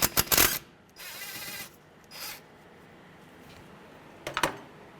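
Hand ratchet backing a 10mm bolt out of the speed sensor on a 2005 Honda Element steering knuckle: a few brief clicking bursts and quieter ratcheting strokes with gaps between, close by.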